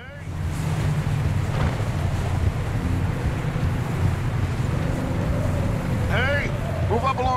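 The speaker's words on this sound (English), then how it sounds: "the sound of more distant wind" Distant wind as a steady, even broadband rush over a low rumbling drone, holding level throughout, with a few brief chirping sounds near the end.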